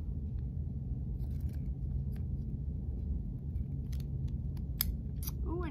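Scissors snip a series of short slashes into paper to make feather pieces for a duckling craft. Several crisp cuts come close up over a steady low background hum, with no talking.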